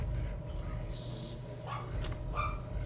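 A house dog gives a few short barks and yips at a moderate distance, mixed in with game audio and a low steady hum.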